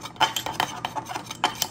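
Food stirred in a pan in a home kitchen during dinner prep, a quick series of light metallic scrapes and clinks of a utensil against cookware, close and moderately loud.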